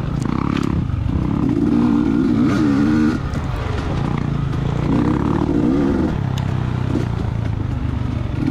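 Off-road racing motorcycle ridden hard along a trail during a Swamp Rat GP race, its loud engine rising and falling through repeated revs and gear changes, with clattering of the bike over rough ground throughout.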